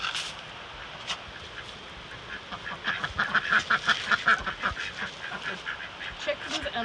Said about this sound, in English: And the ducks both love it.